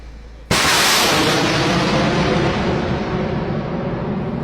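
A single loud artillery blast bursts after a brief low rumble, followed by a long broad roar that slowly fades over several seconds.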